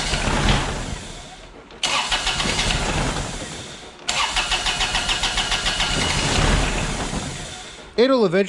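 John Deere X748 riding mower engine cranking and struggling to catch after a fuel filter change, repeated starter bursts with rapid chugging pulses, close and loud, cutting out and restarting several times.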